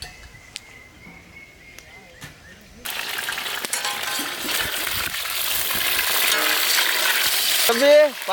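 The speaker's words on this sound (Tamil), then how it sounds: "எண்ணெயில் வதங்குதுல்ல" Brinjal sizzles and fries in hot oil for Tamil oil brinjal gravy, a loud steady crackle that starts suddenly partway through and is stirred now and then, with a voice briefly near the end.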